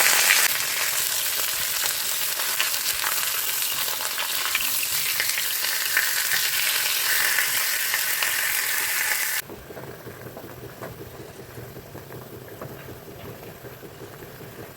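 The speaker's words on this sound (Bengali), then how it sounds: "তাই ভাবলাম মাছের ঝালটা চাপিয়ে দিই" Fish curry sizzles loudly in a hot pan in a home kitchen, a dense continuous frying hiss that drops abruptly to a quieter simmer partway through.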